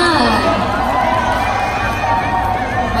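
Loud, dense crowd noise from a Misters of Filipinas 2019 pageant audience, with cheering and shouting sustained throughout, voices and chatter blended into a steady roar.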